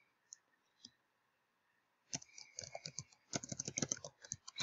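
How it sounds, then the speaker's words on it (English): Rapid clicking keystrokes on a computer keyboard, a few isolated taps at first and then dense bursts of close, crisp typing. "Excuse my typing."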